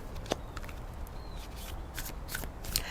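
Tarot cards are shuffled by hand in a quiet room, giving soft riffling, slapping bursts at an irregular rhythm, close and fairly faint.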